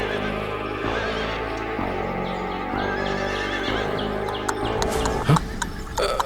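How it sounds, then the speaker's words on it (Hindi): A horse whinnies and its hooves clop as a merchant mounts and rides away, loud and close, with the neighs recurring over steady hoofbeats and a sharper burst near the end. "व्यापारी उठकर घोड़े पर सवार होकर चला जाता है"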